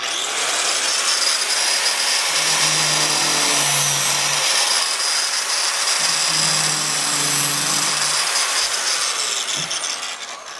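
A power tool grinds shallow notches into floral netting supports, a steady loud broadband whir running nearly the whole time, with a lower droning tone that rises and falls twice as the cut loads and eases.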